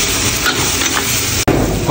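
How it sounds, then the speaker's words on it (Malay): Squid heads sizzling loudly in a hot pan while being stirred, a steady close frying hiss with faint scraping of the utensil and a brief dropout near the end. "Baru kita masukkan kepala sotong. Kemudian kita kodak-kodak."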